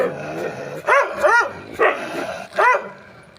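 A dog on a wall near a gate gives four sharp, loud barks in an uneven rhythm, each short and close, with quieter background noise between them.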